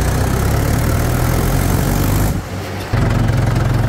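A Mahindra 575 XP Plus tractor engine runs in fourth gear in a steady, low, throbbing drone, dipping briefly in load before returning to a constant rumble.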